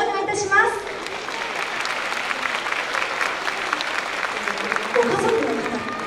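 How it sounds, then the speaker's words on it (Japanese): An audience at an air base festival applauds two clarinet players of an air force band, a dense, sustained round of clapping with a voice briefly audible over it at the start. "皆拍手お願いいたします。"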